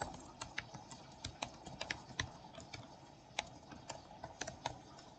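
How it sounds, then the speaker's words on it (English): Someone types on a computer keyboard, entering a username and email. The keystrokes come as quiet, irregular clicks in short bursts with small pauses, close by. "I'll key in my username and email."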